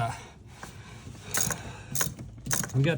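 A wrench ratchets out a bolt holding the brake master cylinder on a BMW 850i, with short bursts of clicking pawl and metal rattling at close range, some quieter handling noise in between and no clear talk.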